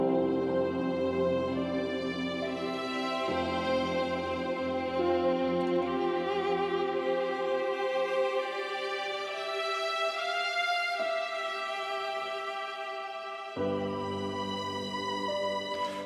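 First violins of a string ensemble carry a sustained melody line over about sixteen seconds, with smooth legato notes and a couple of clear phrase changes, full and steady with no talking.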